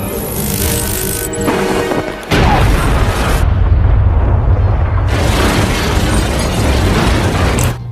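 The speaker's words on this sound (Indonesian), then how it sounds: "tiba-tiba ledakan terjadi" A large explosion in a James Bond film blasts open a hole in the MI6 headquarters, a loud sustained boom and rumble following a short burst of film music and clatter, without speech.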